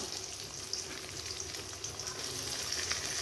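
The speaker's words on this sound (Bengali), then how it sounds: "এবার ওই তেলে আমি পেঁয়াজগুলো দিয়ে দিব।" Onions go into the oil left over from frying prawns, giving a soft, steady sizzle that stays faint and even for a few seconds without any talking.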